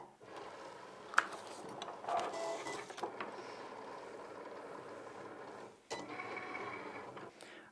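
A Cricut cutting machine cutting heat transfer vinyl: a quiet, steady mechanical whir with soft ticking and carriage movements, pausing briefly before resuming, close by with no talking.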